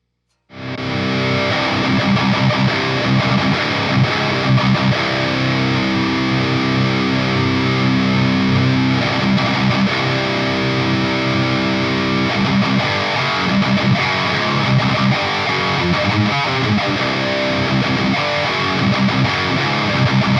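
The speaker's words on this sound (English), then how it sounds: "here's some tones with the power amp relatively cranked" An electric guitar plays through a Science Amps Totality head with the power amp cranked, giving a thick, heavily distorted tone that sustains at a loud, steady level for about twenty seconds with no talking.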